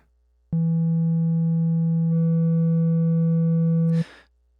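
Ableton Live Saturator applying rounded analog-clip saturation to a steady low test tone, a sustained buzzy hum with gentle harmonics that switches on abruptly, holds for about three and a half seconds and ends with a short noisy burst.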